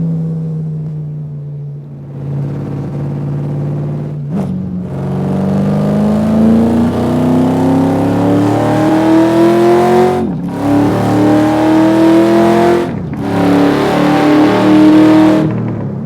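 A retro Chevrolet Corvette drives and accelerates, its loud engine climbing in pitch through several gears with brief dips at each shift, close and prominent throughout with no speech.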